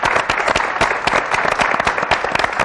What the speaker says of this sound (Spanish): aplauso impresionante, otro más fuerte